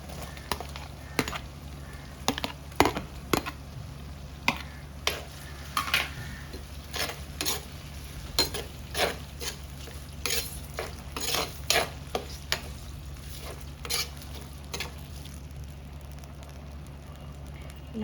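Chopped small tomatoes frying with small onions and garlic in a pan over high flame for a spicy kuzhambu, with repeated stirring clatter and scraping against a steady low sizzle throughout.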